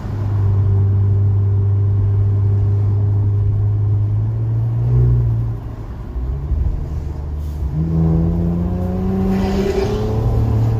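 An Infiniti Q60 with an opened aftermarket exhaust drones at a steady low pitch, then the note drops and climbs again as the engine revs, loud and close throughout.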